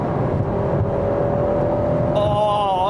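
A Ferrari Enzo engine revs loud and close in a steady, smooth drone, with a rising whine joining near the end.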